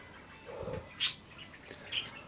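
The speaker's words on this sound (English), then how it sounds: "Beautiful, beautiful chirping, chortling, cheeping" Small birds give a few short, bright chirps and cheeps, one sharper call and a fainter one a second later, over a quiet background with no talking.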